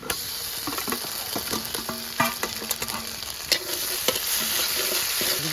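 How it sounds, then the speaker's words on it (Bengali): Cumin, onion and ginger-garlic paste fry in hot oil left from frying fish, with a steady close sizzle broken by scattered clicks and scrapes of a spatula stirring the pan. "ওই তেলেই ফোড়ন দেব জিরে পেঁয়াজ দিয়ে দেবো পেঁয়াজের উপরে আদা রসুন জিরে আর শুকনো লঙ্কা বাটা"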